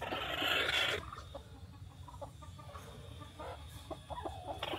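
A hen clucks close by among its eggs in a farmyard, with bursts of soft, irregular clucks over a steady low background and a brief louder noise at the start.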